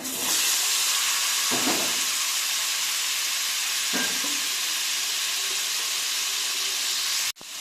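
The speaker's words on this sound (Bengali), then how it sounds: "আলুগুলো আমি নেড়ে নেড়ে লাল করে ভেজে নিয়েছি" Potatoes frying in hot oil in a pan while cooking egg curry, a steady close sizzle and hiss lasting throughout with a couple of soft stirring bumps and no voices.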